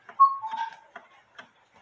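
A handmade pendulum clock of maple ticks softly in a quiet room, a few evenly spaced light clicks mixed with a brief clear tonal ring near the start.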